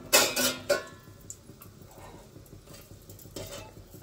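Bajji frying in hot oil in a home kitchen, giving a soft steady sizzle broken by a few louder scraping clatters of stirring at the start and end, close by with no talking.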